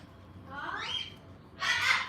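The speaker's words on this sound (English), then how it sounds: "What a cute bird." A cute pet bird gives two short calls indoors: a rising, whistled squawk followed by a louder, harsher burst shortly after, both close and clear with no talking over them.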